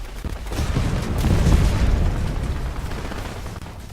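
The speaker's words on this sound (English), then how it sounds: "And now we just ate a torpedo." A torpedo slams into a small naval gunboat in the War Thunder combat game, a deep, rumbling explosion that swells over about a second and then slowly fades, with no talk.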